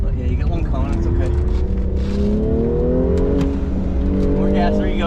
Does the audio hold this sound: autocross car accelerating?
yes